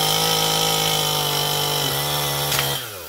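A power saw, likely a chainsaw, cuts through storm-damaged holly, running as a loud, steady near whine for about three seconds before the pitch drops and the engine eases off at the end.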